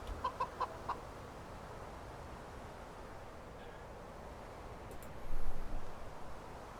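Video-game chickens in Medieval Dynasty cluck in a short rapid series of four notes at the start, followed by a steady ambient outdoor bed and a brief rustling swell.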